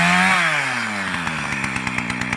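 A chainsaw cuts through wood, loud and close: the engine note drops as the chain bites in, then settles into a steady, rough, pulsing drone.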